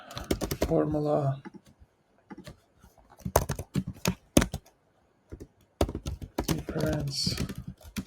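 Keys are tapped on a computer keyboard while a budget formula is entered into a Notion template, with short bursts of clicks between stretches of a person speaking over them.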